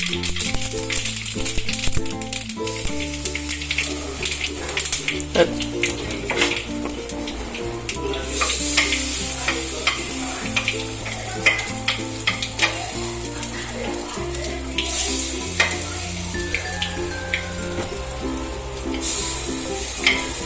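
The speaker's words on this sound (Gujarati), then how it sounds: "થોડાક તલ ઉડશે પણ લાગશે સરસ સ્વાદમાં" Mustard seeds and white sesame seeds spluttering in hot oil for an appam dish, a loud, dense crackle of rapid pops and rattling spits that continues throughout, close to the pan.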